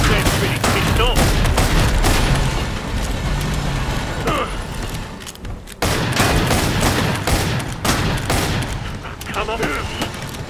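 Dense gunfire in the shooter game Killing Floor 2, continuous rapid shots and explosions filling the scene, loud and unbroken apart from a brief dip, with a voice speaking over it.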